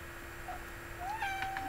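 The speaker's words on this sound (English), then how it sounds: "That was just my cat." A house cat meows indoors, one short faint call followed by a longer rising meow, heard close over a steady background hum with no talk.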